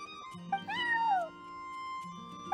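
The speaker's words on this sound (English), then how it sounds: "I'm sorry, that's my neighbor's cat." Charcoal, a cat in a video game, lets out one clear, drawn-out meow with a falling pitch, close and distinct over a faint tonal background.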